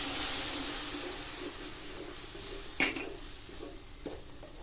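Semolina and milk are stirred in a pan for sukhadi. A steady sizzling hiss carries throughout, broken by a couple of brief spoon scrapes against the pan.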